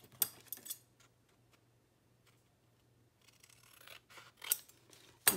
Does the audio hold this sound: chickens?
no